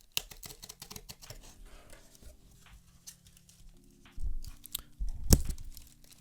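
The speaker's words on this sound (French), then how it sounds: "Ok, ça se déballe comme ça." Packaging crinkles and tears during the unboxing of a collectible figurine, with faint scattered rustles and crackles building to louder tearing and a sharp snap near the end, close up and without talk.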